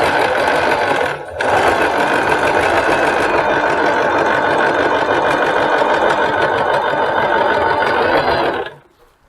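A sewing machine stitches a seam in a layered shoulder shawl, running as a loud, fast, steady mechanical whir. It stops briefly near the start, runs on, then winds down and falls silent.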